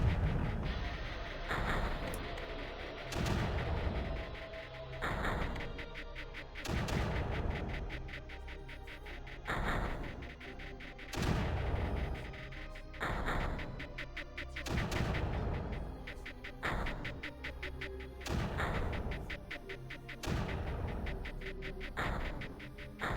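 Mortars in Creeper World fire over and over in a steady rhythm, each shot a sharp, punchy thump spaced a second or two apart, repeating throughout with no talking.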